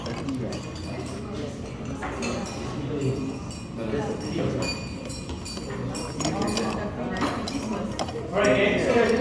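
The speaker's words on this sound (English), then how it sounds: "let's take your bar spoon, mix it all up" A bar spoon stirs a cocktail in a glass with light clinks and jingles, mixed in among nearby voices and a busy room's chatter during a mixology workshop.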